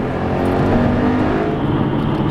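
A BMW M5 engine revs at just under 3,500 RPM while driving, giving a continuous loud, steady drone with a rich low rumble and no voices.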